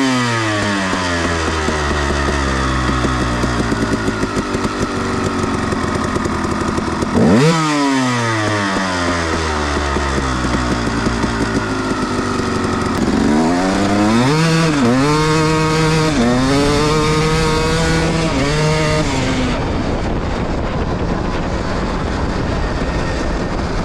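A motorcycle engine fitted with Vforce reed valves revs loudly and close, its pitch climbing and dropping through repeated throttle sweeps with a brief dip partway through, then rising again.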